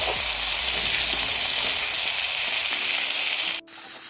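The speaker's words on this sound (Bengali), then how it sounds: "এবার এটাকে ভালোভাবে ভেজে নিতে হবে।" Rohu fish pieces frying in a pan with salt and turmeric, giving a steady, loud, close sizzle that runs unbroken before a brief dip near the end.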